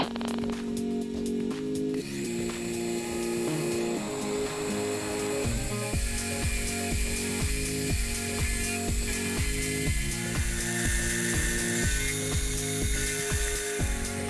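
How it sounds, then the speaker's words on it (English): A milling machine takes bulk waste stock off a workpiece for a dovetail puzzle, giving a continuous close mechanical whir with a rhythmic ticking chatter underneath that holds steady throughout. "then I made a start on removing the bulk of the waste stock"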